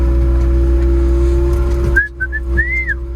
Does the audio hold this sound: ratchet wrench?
no